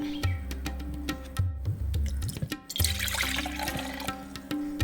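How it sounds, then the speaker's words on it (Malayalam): Tender coconut water poured from the nut into a bowl, with close, uneven trickling and dripping, a gurgling gush in the middle, then resumed drips and small splashes. "ഇനി ഇളനീർ വെള്ളം ഒരു പാത്രത്തിലേക്ക് മാറ്റാം."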